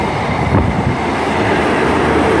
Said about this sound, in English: passing through now is an Intercity 7 set